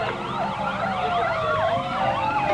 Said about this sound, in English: The police sirens, there's the lead truck